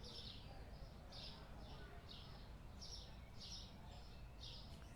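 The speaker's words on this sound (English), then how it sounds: "The birds are loud." Birds in the video game Supermarket Simulator chirp in a steady repeating series of bright, short calls, about a dozen in five seconds, over a low ambient rumble.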